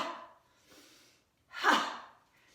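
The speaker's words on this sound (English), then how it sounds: "So we're going to do that 5 times, making light, nice, loud ha sound" A breathy, forceful "ha" exhale from yoga breathing, with a softer breath before it and then one loud, open push of air, close and alone.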